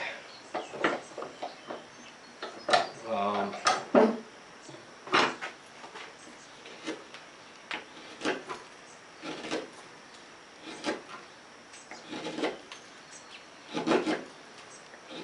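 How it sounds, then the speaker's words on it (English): A DeWalt chisel cuts into red oak in a series of short, sharp scraping and chopping strokes, irregularly spaced across the span, close by with quiet gaps between them. "It's definitely having no trouble cutting red oak."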